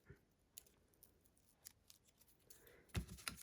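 Scissors snip paper while trimming a handmade greeting card, a few quiet, sparse cuts building to a firmer snip near the end.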